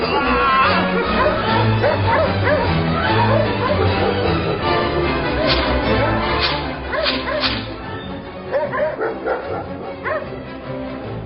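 Dogs barking and yelping in a dense, loud mix, set on over people in a dramatized conquest scene, with harsh cracking sounds and a busy background running throughout.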